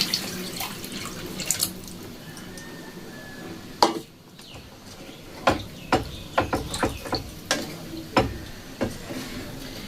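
Hot water is poured into a pan holding fried eggs and potatoes, heard nearby as splashing and bubbling with a string of sharp drips and spatters, quieter in between.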